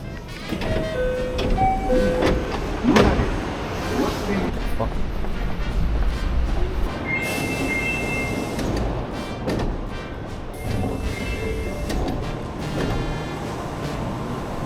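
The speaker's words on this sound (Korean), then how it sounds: "오늘은 전철을 타고 한번 이동해 보도록" Commuter electric train ride in Japan, with a steady rumbling interior drone, occasional clunks and brief tonal chimes or announcements, with people talking over the loud continuous background.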